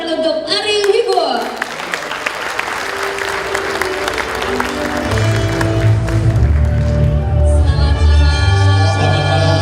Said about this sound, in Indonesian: langsung aja kita sambut dan beri tepuk tangan untuk Ari Wibowo